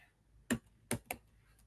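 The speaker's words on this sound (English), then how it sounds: "you just type this command stats.do" A computer keyboard gives three quick, quiet key clicks in a short burst against near silence while a command is typed.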